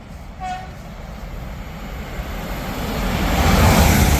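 A brief train horn sounds early, then a Class 800 train's roar swells steadily louder as it approaches and passes nearby at Hitchin on the East Coast Main Line.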